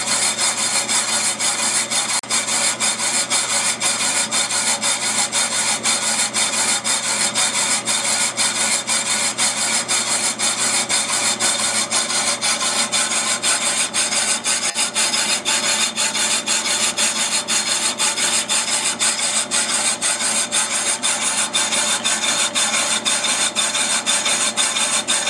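Steady machining cut on a Willys T-90 transfer case part: a continuous, even grinding and rasping hiss with no pauses, close and fairly loud throughout.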